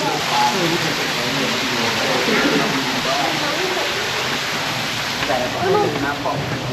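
Steady rushing water from a waterfall inside a cave at a hillside temple fills the space with continuous broadband noise, while people talk in the background throughout.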